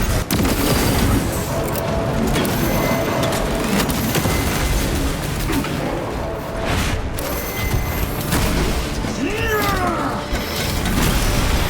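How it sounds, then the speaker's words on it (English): Frag grenade blasts and combat in Warhammer 40k Space Marine 2, loud continuous game noise with booming detonations and mechanical clatter throughout. "Frag grenade deployed."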